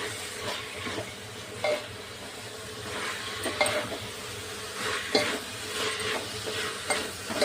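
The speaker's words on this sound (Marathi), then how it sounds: "हे पण तेलामध्ये ना छान असे परतून घ्यायचे" Fresh corn kernels sautéed in hot oil in a pan, a steady close sizzle broken by regular scraping stirs about every second.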